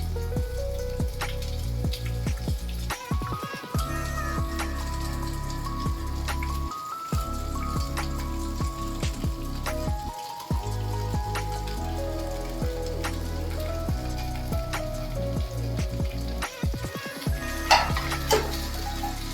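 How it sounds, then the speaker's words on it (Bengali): Vegetables sauté and fry in a hot pan with a steady crackling sizzle, quiet and close, broken by several short pauses and occasional stirring scrapes. "এই ভেজিটেবলস গুলোকে এবার একটু সটে করে প্রথমে ফ্রাই করে নেব।"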